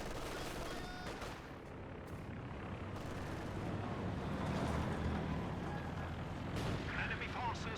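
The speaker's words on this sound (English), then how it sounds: "We have flame mortar shells being used, denying the middle cap." Flame mortar shells from Company of Heroes 2 fire in a dense, continuous barrage of booming blasts and crackling fire, with a commentator talking over it.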